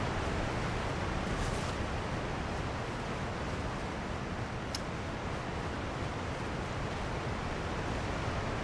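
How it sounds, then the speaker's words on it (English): A loud waterfall in Elden Ring's DLC roars as a steady, dense wash of broadband noise that fills the whole stretch without pause, alone with no talk over it. "These falls are so loud."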